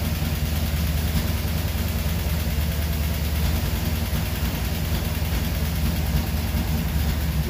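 The engine of a 1977 Chevy Camaro being restored idles at about 1,000 RPM, a steady, loud, low rumble that stays constant and close throughout, with no talking.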